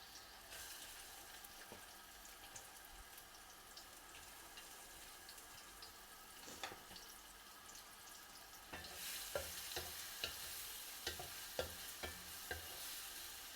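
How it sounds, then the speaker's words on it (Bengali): Onion and garlic fry in a pan with a steady, fairly faint sizzle, joined by intermittent scraping and stirring knocks that grow more frequent toward the end. "পেঁয়াজটা একটু ভাজা ভাজা করবো"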